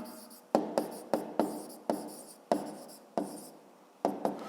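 Writing down an answer to a fifth-grade math exercise by hand gives about a dozen sharp, irregular strokes and taps, close and distinct, with no voices.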